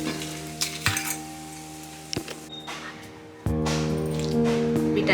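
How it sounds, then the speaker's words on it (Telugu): Whole spices dry-frying in a kadai for instant tomato pickle give a loud, steady sizzle, broken by sharp utensil clinks and scrapes, and the sizzle swells louder toward the end. "ఇప్పుడు వీటన్నింటిని కూడా దూరగా వేయించుకోవాలి"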